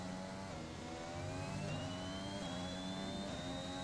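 A racing car engine in a video game howls steadily through a qualifying lap, a loud continuous whine with its pitch slowly climbing as the car accelerates, no pauses.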